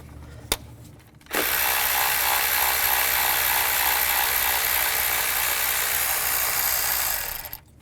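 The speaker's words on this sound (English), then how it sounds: "Use an 8mm socket. Take this bolt out." A ratchet with an 8mm socket turns a bolt out on a 2013-17 Ford Police Interceptor Utility, a single faint click followed by a long, steady, close-up whirring buzz that stops abruptly.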